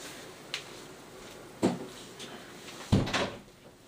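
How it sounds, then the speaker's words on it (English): A door pushed shut in a room, with a light knock near the start and two louder thumps at about 1.6 and 2.9 seconds. The second thump is the heaviest and is followed by a short rattle, all close by over a faint fan hum. "I'm going to shut the door"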